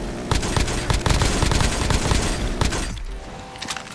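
Rapid, sustained gunfire from a zombie-slaying weapon in Call of Duty Zombies, a dense volley of shots that runs almost continuously before cutting off, followed by a few scattered quieter bursts.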